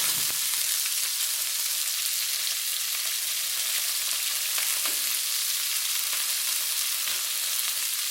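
Shrimp sizzle and fry in a little oil while browning, a steady broadband crackle that runs loud and close throughout with no voices over it.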